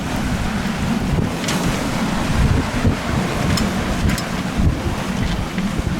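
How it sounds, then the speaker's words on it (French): Strong wind buffeting the microphone aboard a sailboat running downwind off Antigua, a continuous gusty roar mixed with waves and water rushing against the hull, loud and steady with no talk. "il y a encore plus de vent que quand on est venu ces 2 derniers jours"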